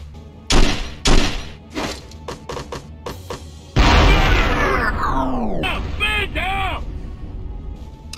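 A grenade goes off in a video game: a few heavy thuds and thumps come first, then a loud booming blast that rings out with debris and shattering, fading over several seconds.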